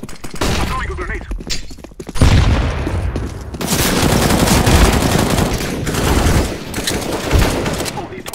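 Counter-Strike: Global Offensive gameplay fills with sustained, loud automatic gunfire and a heavy grenade blast, dense bursts and thuds running almost continuously with game voices mixed in.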